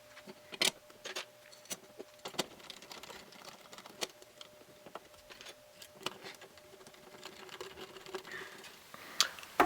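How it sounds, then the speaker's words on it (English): Small screws driven by hand into the two halves of an airsoft gearbox give scattered sharp clicks and short whirring bursts, close and fairly quiet, in an irregular rhythm. "I'm going to go ahead and put them together and screw them back together"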